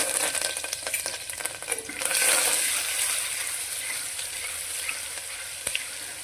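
Cumin, dried red chillies, ginger-garlic paste and curry leaves sizzling in hot oil, a steady close hiss and crackle with a louder burst near the start, continuing without talk.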